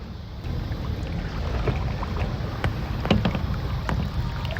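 An RC boat running on water, a steady motor drone with splashing and wind noise, occasional sharper bursts, fairly close and continuous throughout.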